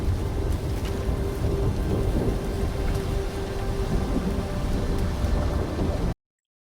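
A thunderstorm with steady heavy rain and low rumbling thunder running continuously before cutting off abruptly.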